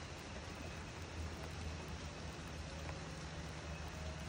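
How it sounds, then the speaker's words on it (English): Rain falls steadily at a villa in Bali, a soft, even hiss of drops with no voices over it. "It's raining right now."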